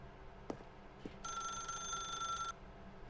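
A telephone rings in The Stanley Parable video game: one steady electronic ring that lasts about a second and a half, set over quiet room tone with a few soft clicks before and after it.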